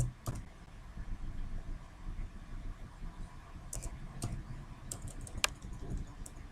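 Computer keyboard keys are pressed in short, sparse clusters of crisp clicks during a Ctrl+V paste, close and fairly quiet, with faint room noise between presses and nobody talking.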